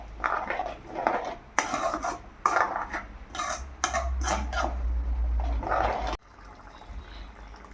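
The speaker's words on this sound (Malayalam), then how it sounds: "തേങ്ങാപ്പാൽ കൂടി ചേർത്ത് കൊടുത്ത് നന്നായി ഇളക്കിയെടുക്കുക" Chicken masala being stirred with coconut milk in a hot pan, giving repeated close scraping and rasping strokes of a utensil against the pan in an irregular rhythm, with a low steady rumble underneath.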